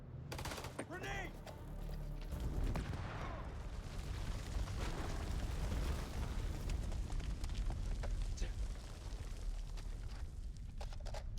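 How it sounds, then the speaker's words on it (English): A grenade blast in the war-horror video game House of Ashes: a sustained, loud roar of explosions and gunfire-like bursts rumbling continuously with heavy low-end, as chaotic combat noise fills the scene. "Grenade!"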